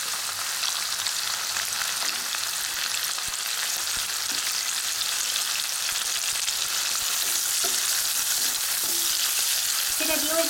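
Schezwan chicken sizzles loudly and steadily in a pan with spring onion stalks, with a few light knocks from stirring toward the end and no speech.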